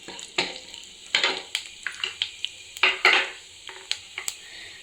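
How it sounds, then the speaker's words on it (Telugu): Cumin seeds frying in 3-4 spoons of hot oil in a kadai, a steady close sizzle broken by sharp clinks and scrapes of a spoon stirring against the pan. "ఒక కడాయో ప్యానో పెట్టుకొని 3-4 స్పూన్లు ఆయిల్ వేసుకొని అది హీట్ అయినాక 1 స్పూన్ అంతా జీలకర్ర వేసుకొని ఫ్రై చేసుకుంటాం"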